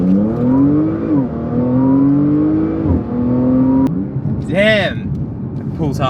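An Audi A4/S4 accelerates onto a highway with a loud engine pitch that climbs, drops at each gear shift and climbs again. A voice briefly talks over it toward the end.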